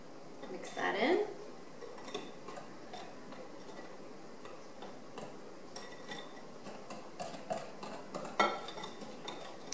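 Flour being mixed into brownie batter in a bowl, soft scraping and occasional clinks of a utensil against the dish, fairly quiet and irregular throughout.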